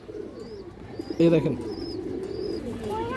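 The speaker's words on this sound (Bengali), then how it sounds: "একটা নর কবুতর আছে, খুব সুন্দর একটা নর কবুতর" A male pigeon gives a short, close, throaty coo while someone talks briefly, with faint chirps and a low background murmur throughout.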